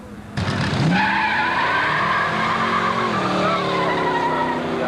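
Antique drag racing cars launch at Carlsbad Raceway, an engine roaring up loud and close with tire squeal at the start, then a steady high revving drone that shifts pitch as the car pulls away.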